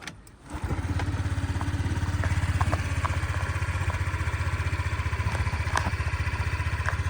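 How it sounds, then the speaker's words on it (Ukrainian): A fuel-injected Honda Dio 110 scooter engine starts and settles into a steady, even idle with a regular low putter, running close and alone for several seconds. "друзі заведемо, послухаємо"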